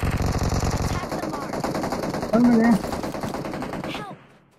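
Rapid automatic gunfire in an online shooter game, a dense loud burst of shots that thins into scattered firing before stopping, with a brief voice over the top.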